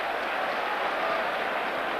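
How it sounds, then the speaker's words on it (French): A stadium crowd applauds a player named Bolic during an Anderlecht versus Crvena Zvezda European Cup group-stage football match, 1991/92: a steady, broad wash of clapping and crowd noise holding even for about two seconds. "Applaudissements pour Bolic."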